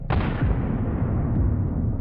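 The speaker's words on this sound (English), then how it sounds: "From another drone at a distance, you can see the force with which the improvised storage exploded." A huge explosion of an improvised storage dump of mines, struck by a drone in a destroyed village, erupts as one sharp loud blast, then a long heavy rumble and roar that fills the clip.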